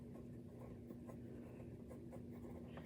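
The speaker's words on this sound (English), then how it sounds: "Let me write that down so I remember." Pen or pencil writing by hand on paper, a faint soft scratching at a cross-stitch hobbyist's desk, quiet and close under a steady low background hum, with no talking.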